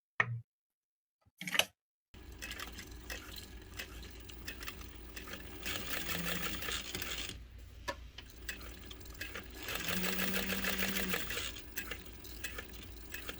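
A domestic sewing machine stitches a Shamballa bag, running in a steady, fairly quiet mechanical whir with ticking needle rhythm, pausing briefly and speeding up in two longer bursts.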